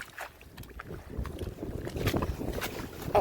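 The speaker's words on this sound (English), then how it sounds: "It's really windy where I'm at right this second." Wind gusts outdoors on a rainy day buffet the microphone as a steady, rough rumble, fairly faint and continuous, with no talking.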